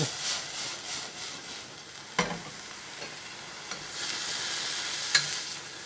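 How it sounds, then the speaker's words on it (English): Frozen peas stirred in a pan while cooking sea bream, giving soft scraping and a low sizzle with a couple of sharper utensil knocks, moderately close and alone. "let's go ahead and throw our peas in. And we'll mix them around"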